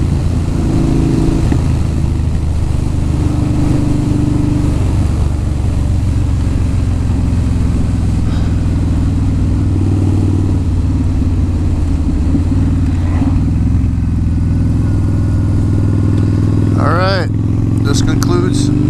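2007 Kawasaki Vulcan Mean Streak Special Edition, a 1600 cc cruiser motorcycle, accelerating hard while riding, with a loud, deep, continuous engine roar and wind rush throughout, and brief rising pitch as it pulls.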